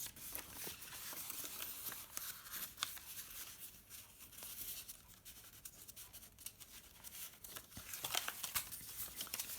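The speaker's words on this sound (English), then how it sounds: "they fold perfectly to be put in these envelopes" Paper letters being folded and slipped into envelopes, close soft crinkling and rustling with brief tearing-like scrapes, continuous and fairly quiet.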